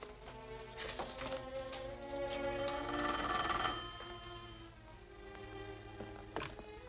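A telephone bell rings loudly in repeated bursts in a 1944 serial drama scene, the old mechanical ringing standing alone without any talk.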